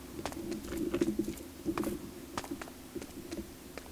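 Birds cooing softly in Minecraft, repeated low pigeon-like coos over faint pattering background noise, fairly distant and quiet.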